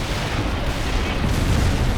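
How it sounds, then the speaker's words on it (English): Dense, continuous rumble of artillery fire and airstrikes in the World in Conflict battle game, a loud low booming wash with no distinct gaps, as of heavy bombardment landing nearby. "Romanov, call in artillery and airstrikes on them."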